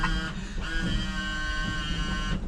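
The windshield washer pump on a 1966 Ford pickup runs as a steady, close electric whine with a buzzing hum under it, cutting in and out briefly.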